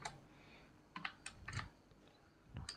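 A computer keyboard clacks as code is typed into a Python dictionary, quiet, irregular bursts of keystrokes with short pauses between them, and nobody speaking.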